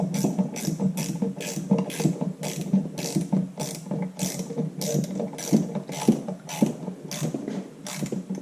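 A ratchet tightens a fastener on the belt pulley drive of an IHC Farmall Super MTA tractor. Rapid clicking strokes repeat in a steady rhythm close up, with no talk.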